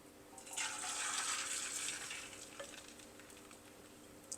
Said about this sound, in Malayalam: അതിലേക്ക് ഞാൻ മുട്ട അടിച്ചു വെച്ചിരിക്കുന്നത് അങ്ങ് ഒഴിക്കാം.